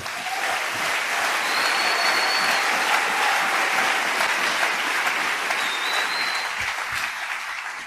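A church congregation at a French-language service clapping steadily and energetically, a dense, even roar of hands that lasts throughout without pause.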